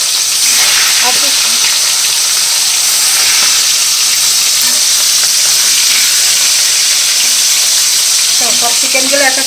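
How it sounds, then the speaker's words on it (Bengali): Chicken pieces fry in hot mustard oil in a wok, giving a loud, close, unbroken sizzle with steamy hiss and a few scraping stirs near the end. "চিকেনটা ফ্রাই করে নিই বাবু।"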